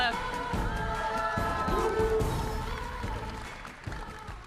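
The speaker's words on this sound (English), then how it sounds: "Give them all a big round of applause, everyone." Convention audience at a Star Wars Celebration panel applauding and cheering, a broad roar of clapping and whoops under a speaker's amplified voice, gradually easing off.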